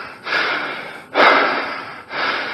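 A climber breathing hard at high altitude on Everest, three long, loud rasping breaths in steady succession with brief pauses between them and no talk.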